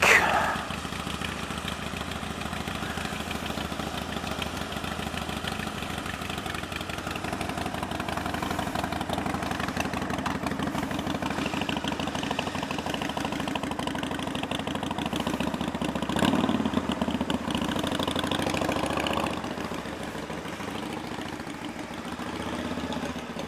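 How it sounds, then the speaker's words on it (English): An engine idles steadily at a fairly high, constant pitch for a long stretch while cold, moderately close, with faint voices now and then. "When it warms up, the revs will drop down on their own."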